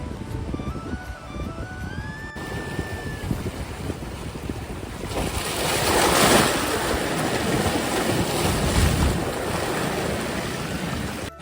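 Ocean surf rolls and crashes steadily along the shore at Shrivardhan beach, swelling louder midway, with wind buffeting the microphone throughout.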